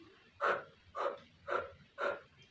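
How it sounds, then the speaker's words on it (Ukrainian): Four short, evenly spaced breathy huffs, like children blowing warm breath onto their palms to warm them, each one soft and close with brief quiet gaps between. "Похукайте на свої долоньки як начебто хочете їх зігріти."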